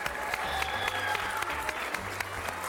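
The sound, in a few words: applause from kids and parents at the zoo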